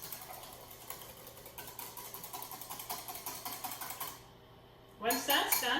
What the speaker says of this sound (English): you're just going to take your whisk and give that a good whisk